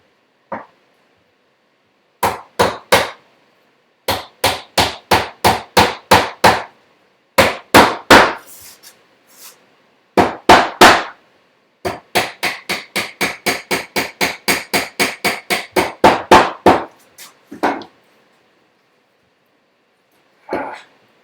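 A wooden tusk tenon is hammered into place in a woodworking shop with sharp, close, loud mallet blows that come in rapid bursts of strikes, separated by short pauses, with a final lone tap.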